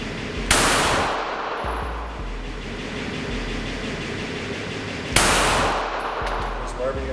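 Two loud, sharp 9mm pistol shots from a Taurus G3 at an outdoor range, a few seconds apart, each with a ringing decay and a low rumbling background between them.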